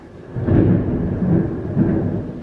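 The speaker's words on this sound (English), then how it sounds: "Y'all hear that thunder?" Thunder from a storm heard from indoors at home, a deep low rumble rolling in and swelling in several waves, fairly close and loud with no talk.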